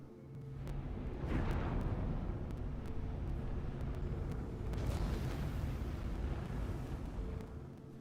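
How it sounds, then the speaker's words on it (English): Ship taking fire in the space game Star Citizen, a continuous rumbling barrage of heavy impacts and booming blasts holding steady for several seconds, with swells of louder bursts and no talk. "Like someone's shooting that caterpillar, not me."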